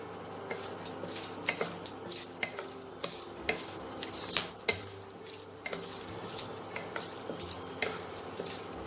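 Whole spices such as cinnamon, green cardamom, cloves and black pepper frying in a pan for a Bengali chicken stew, with a soft sizzle under repeated light clinks and scrapes of a spoon stirring against the pan, quiet and close.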